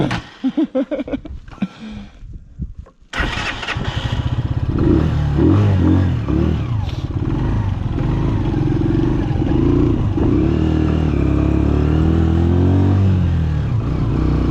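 A motorcycle engine runs loud and close on a stop in İlyasfakı village, Ayvacık, Çanakkale, with a steady, heavy drone after a few choppy bursts at the start.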